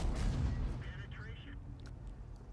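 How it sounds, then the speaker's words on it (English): Tank firing HE rounds in World of Tanks, heavy low booming gunfire rumbling continuously in the foreground with a faint game tone, a person talking over it. "I'm just gonna sit here and just fire HE rounds into his underside"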